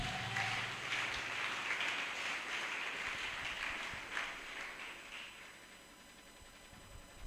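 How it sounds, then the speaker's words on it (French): A church congregation applauding, a broad sustained wash of many hands clapping that fades gradually toward the end, heard from a distance through room echo. "Acclamons pour la gloire de Jésus."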